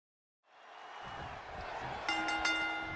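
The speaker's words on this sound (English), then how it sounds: "it sounds to me like this Albuquerque crowd has already picked who they want to win this one." Arena crowd in the WWE 2K20 wrestling video game, set in Albuquerque, rising into sustained cheering and roaring that swells and holds, with brighter whistles and whoops near the end.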